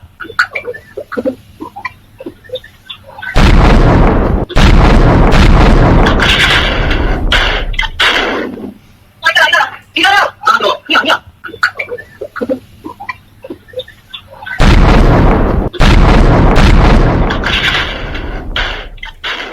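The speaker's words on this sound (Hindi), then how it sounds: "एक के बाद एक ऐसे 3 धमाके किए गए।" Two loud, sharp bomb blasts a few seconds apart, each followed by rumbling noise and scattered crackles, with quieter commotion between them.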